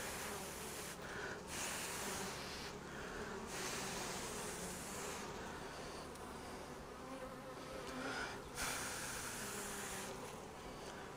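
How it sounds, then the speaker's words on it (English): Dense, steady buzzing of many honey bees crowding a hive comb, a continuous close drone with slight swells and dips throughout. "Lots of bees on this comb."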